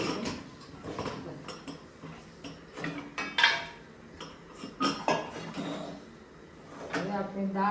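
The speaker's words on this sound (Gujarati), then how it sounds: "અને હવે આપણે કુકરનું ઢાંકણું ભરી દઈશું." The metal lid of a pressure cooker is fitted and closed with close clinks and clattering taps, a few sharp knocks among quieter handling sounds, while someone speaks softly.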